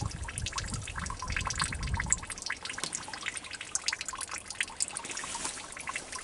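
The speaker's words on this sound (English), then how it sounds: "all that liquid, it looks like water, is actually sap from the trees" Maple sap trickles and drips from tapped trees into collection lines, a steady close run of liquid with many fine splashing drips and a fuller low gurgle for the first couple of seconds.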